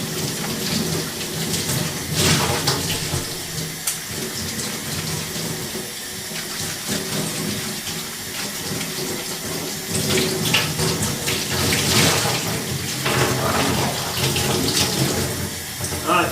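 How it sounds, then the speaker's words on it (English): Steady running water from a tap splashes over a car wash mitt being rinsed at home, a continuous hiss with shifting splashy bursts, loud and close, with no talking over it. "give your wash mitt a good rinse before you stick it in your bucket"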